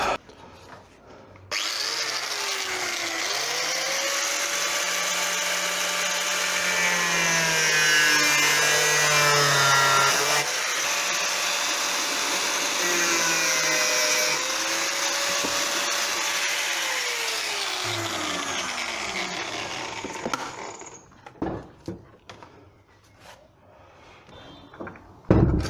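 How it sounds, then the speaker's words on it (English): An angle grinder cuts into the rear fender of a Suzuki V-Strom 650 motorcycle, a loud, close, sustained whine that rises and dips as the disc bites, then spins down and stops, followed by quieter handling noises. "We're going to get the grinder onto that."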